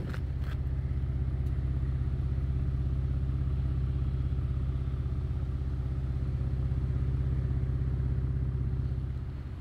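A 2024 Ford Ranger Raptor V6 petrol pickup's dual exhaust rumbles steadily at idle, deep and continuous, recorded close with no talking.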